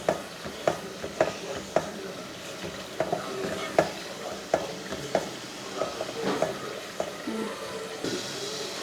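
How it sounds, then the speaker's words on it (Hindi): Tomato-based spice masala frying in a pan for a dhaba-style aloo palak, with a steady sizzle broken by repeated scraping stirs at an uneven rhythm, close and moderately loud, and no talking. "अच्छा देखिए, ये हमारा मसाला भून रहा है।"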